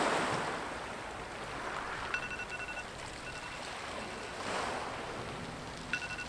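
Sea waves near the shore wash in a continuous broad rush, swelling at the start and again midway, with wind across the microphone and no talk.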